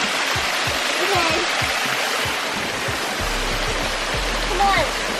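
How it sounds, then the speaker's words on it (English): A small waterfall on a North Carolina trail rushes steadily in a continuous broadband roar, close and loud, while people talk and call out over the water and a few footsteps thud nearby. "This is a little baby waterfall, this one"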